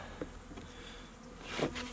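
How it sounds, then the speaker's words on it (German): Honey bees swarm up out of a hive box after a light knock in late autumn, their buzzing swelling loud and close near the end over a steady background hum. "Also der kleine Schlag hat jetzt dazu geführt, dass alle Bienen hier aus der Kiste"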